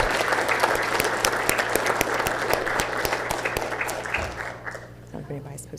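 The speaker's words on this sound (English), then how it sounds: "let's give a great round of applause for Warner Robins Founders Week and the individuals that make it happen" Attendees at a city council meeting give a round of applause, crisp individual claps close by over a low room hum, thinning out and fading near the end.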